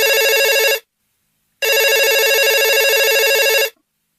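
A phone ringtone rings loud and close in two bursts, a short ring, a brief silence, then a longer ring, with no talking.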